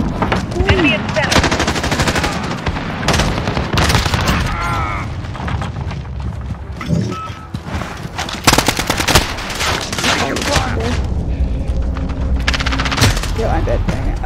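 Rapid automatic gunfire from a first-person shooter video game, with dense machine-gun bursts and booming shots running almost continuously and loudly throughout, while voices talk over the action.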